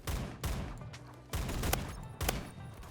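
Gunfire from the Roblox shooter Phantom Forces: three heavy, booming shots spaced about a second apart, each with a sharp attack and a long rumbling tail, loud and close with no talk.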